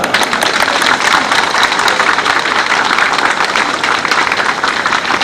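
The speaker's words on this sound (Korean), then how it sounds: "감사의 큰 박수를 보내시면 고맙겠습니다" A large crowd at the opening ceremony of the Icheon peach festival gives loud, dense, sustained applause that stays steady and unbroken from start to finish.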